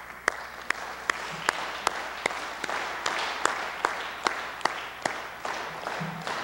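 Audience at a 1998 memorial service at Augsburg clapping in a steady, evenly spaced rhythm, sharp claps over a soft broad crowd wash, moderately close.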